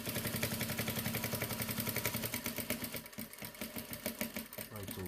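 A sewing machine stitches a patch pocket, its motor running in a fast, steady rhythm of needle strokes, close and loud, then slowing into uneven bursts near the end.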